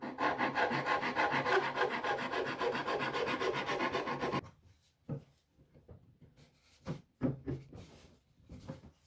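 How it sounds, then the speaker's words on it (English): Steady rhythmic rasping of hand sanding against a wooden boat cowl for a few seconds, then stopping, followed by scattered knocks and light handling sounds. "I'll carry on sanding this down"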